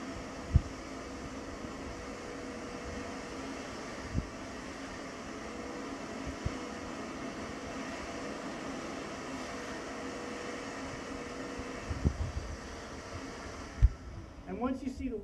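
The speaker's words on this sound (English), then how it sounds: "Now we'll go back just to vacuum," A steady mechanical drone of a steam cleaner's vacuum motor runs throughout as it vacuums carpet, with occasional faint knocks and a voice speaking briefly near the end.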